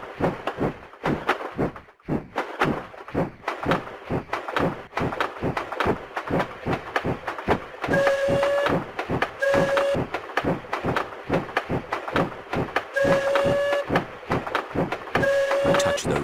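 Chugging train sounds from a Peppa Pig iOS game, a steady rhythmic clatter with repeated whistle-like tones in bursts over the second half, loud and continuous with no talk.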